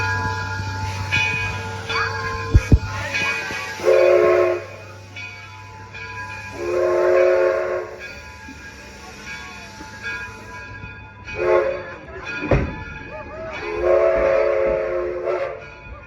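A heritage passenger train at Greenfield Village rolls along with a steady rumble, and a loud whistle sounds in repeated blasts.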